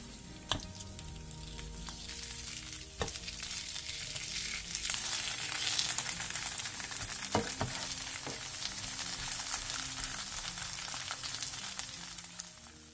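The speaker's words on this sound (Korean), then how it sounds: "팬에 기름을 두른 뒤 먹기 좋은 크기로 반죽을 올려 중약불에서 앞뒤로" Vegetable pancake batter fries in an oiled pan over medium-low heat, a continuous crackling sizzle close by, broken by a few sharp clicks and scrapes of a utensil against the pan.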